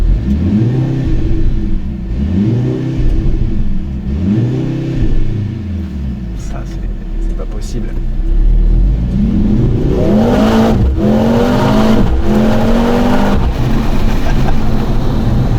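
A 2024 Mercedes C63S AMG engine revs and accelerates hard in repeated surging pulls, loud and close, with someone speaking briefly over it.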